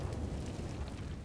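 A grenade blast in Counter-Strike: Global Offensive rumbles as a loud, dense low roar that fills the whole short moment, with no break or talking over it.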